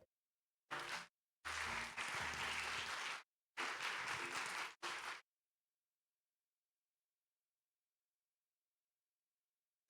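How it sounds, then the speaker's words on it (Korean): Applause at a Sunday young-adult church service welcomes an engaged couple coming forward, heard in several short bursts of clapping separated by abrupt gaps, then silence for the remaining half. "앞으로 나올 때 많은 환영과 박수 부탁드립니다"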